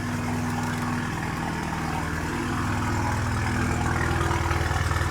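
Renault Megane RS project car idling close by, a loud, steady low engine drone with a slight swell toward the end and no voices.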